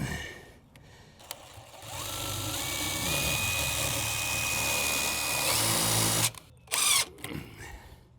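A power drill drives screws into the wood of a shed ramp, giving a sustained high whine with a rising pitch. Near the end comes a short burst and a brief reverse spin, with no talking.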